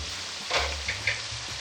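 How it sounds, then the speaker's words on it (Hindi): Tomatoes frying over high heat for chicken achari aloo bhujia, a steady close sizzle with a few louder bursts of spatter as the pan is stirred, no voices. "तेज़ आंच में मैं इसकी भुनाई करती हूँ"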